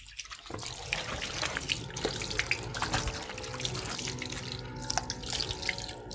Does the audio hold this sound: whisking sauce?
no